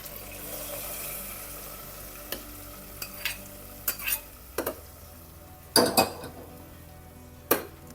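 Mustard seed tempering poured into a pot of coconut-based pumpkin curry, a soft hiss of frying followed by a run of scattered clinks and knocks of a spoon or vessel against the pot, up close.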